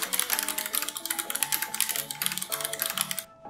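Razer Ornata Chroma membrane keyboard with soft rubber-dome keys, typed on in a quick, uneven run of close, crisp clicks that stops abruptly near the end.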